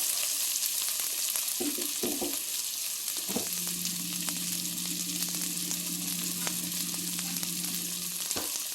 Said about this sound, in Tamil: வெங்காயம், பச்சை மிளகாய் போட்டு பாருங்கள், நல்லா வதக்குறேன்